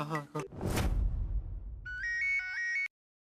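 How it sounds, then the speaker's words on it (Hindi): A mobile phone placing a call to a friend: a brief spoken snippet and a whoosh give way to a clear electronic ringback melody of repeated tones for about a second before it cuts off. "मेरा दोस्त है मंजोत, मैं उसको भी ट्राई करता हूँ"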